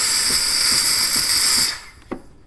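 A Delonghi Linea Classic EM450M espresso machine's steam wand hisses loudly and close, then cuts off abruptly, leaving a faint clunk and quiet.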